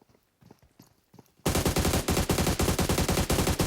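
Gunfire from an automatic weapon in the video game PUBG Metro Royale: a few faint shots and footsteps, then a loud, close, rapid burst of evenly spaced shots lasting over two seconds.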